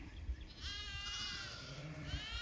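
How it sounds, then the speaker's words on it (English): Young lambs on a green pasture bleat in a few faint, wavering calls, heard at a distance against quiet outdoor background. "17 lambs right there."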